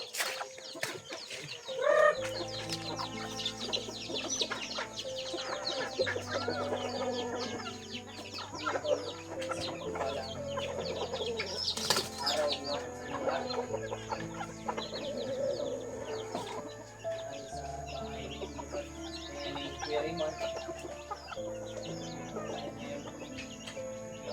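Chickens clucking steadily nearby, with scattered squawks and a brief crow, over a background of low, droning music.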